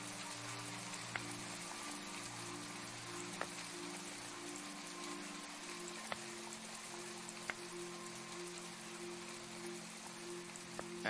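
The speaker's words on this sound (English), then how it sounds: "Oh, it's raining." Rain from the video game Autumn falls as a soft steady hiss on surfaces, with faint scattered drip ticks over a low looping ambient drone. Quiet and continuous, with no talking.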